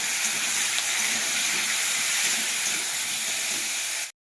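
Chopped vegetables sizzle and hiss steadily in a hot pan with tomato, onion and five-spice seeds, a loud dense frying sound throughout that cuts off abruptly near the end.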